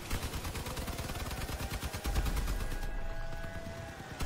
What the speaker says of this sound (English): Fire your guns!